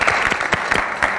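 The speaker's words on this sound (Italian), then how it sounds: "vorrei un bel applauso per i nostri concorrenti" A burst of applause from a television game show audience, dense overlapping claps at steady loudness with no voices, lasting just over a second.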